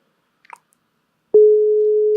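A mobile phone call tone starts after a few faint clicks and rustles, then holds as one steady, clear tone to the end.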